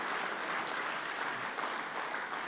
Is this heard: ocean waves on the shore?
no